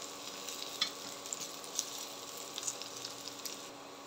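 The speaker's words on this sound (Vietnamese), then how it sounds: "Rồi mình chiên cái miếng chuối nó vàng như thế này là được ha" Pieces of green banana fry in oil in a pan, giving a quiet, steady sizzle with scattered small pops and crackles and no one speaking.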